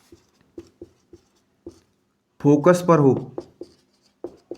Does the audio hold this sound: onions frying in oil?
no